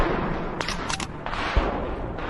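A grenade launcher fires during frontline combat with Russian forces: several sharp, close bangs and a low thump come within about a second, over a constant rough battlefield roar.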